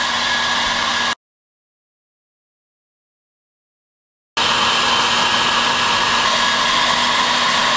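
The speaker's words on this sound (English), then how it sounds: "Hairdryer option." A hair dryer blows with a loud, steady whoosh, cuts out for a few seconds of silence, then starts again.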